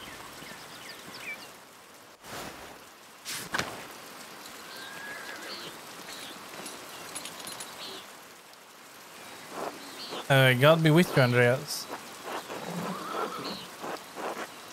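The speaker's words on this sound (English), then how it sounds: "Look at this rain." Steady rain falling in the video game Pentiment, a continuous hiss with scattered drops and a faint rumble, while a voice speaks briefly over it near the end.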